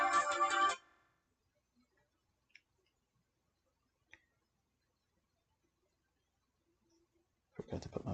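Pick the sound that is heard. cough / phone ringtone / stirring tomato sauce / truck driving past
phone ringtone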